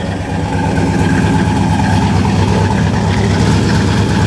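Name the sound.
cammed Ford Explorer 5.0 V8 engine idling, exhaust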